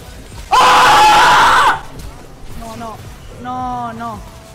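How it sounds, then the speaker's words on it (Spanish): A man lets out a loud, sustained scream while playing a video game, followed by a short groaning, wavering voice. "ese grito me salió del alma"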